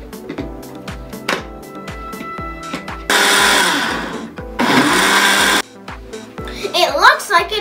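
A countertop blender whirs loudly in two strong bursts while blending a smoothie with vanilla extract and cocoa powder, set among clattering and tapping sounds and a bit of background activity.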